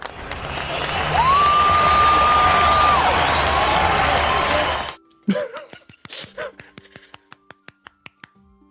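A live audience claps and cheers in a loud, sustained roar for several seconds, with a whistle over the noise. It cuts off abruptly to sparse close claps and finger snaps, and a voice is briefly heard.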